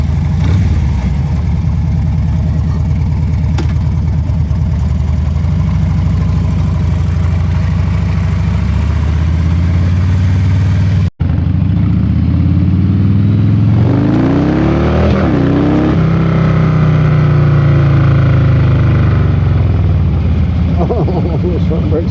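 A 2009 Harley-Davidson Street Bob motorcycle engine runs loud and close, settling into a throaty idle after a brief cut, then revving and rising in pitch, with a voice heard over it.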